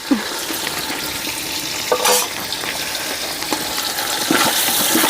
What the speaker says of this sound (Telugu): సన్నగా కట్ చేసుకున్న ఆనియన్స్ కూడా వేసుకుందాం ఈ ఆనియన్స్ని ఫ్రై కోసం